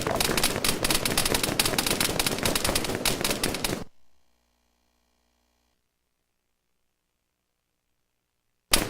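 Sustained automatic machine-gun fire from enemy troops in the Arma 3 military shooter, loud and dense for about four seconds before cutting to silence, with a brief burst returning at the very end.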